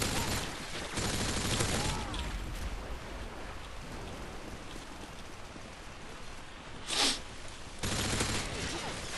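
Rapid gunfire bursts in Modern Warfare 2, dense crackling volleys that come in waves with a short sharp burst near the end, over a constant noisy battlefield wash.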